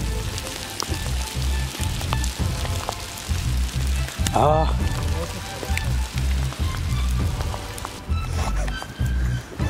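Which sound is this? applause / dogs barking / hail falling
hail falling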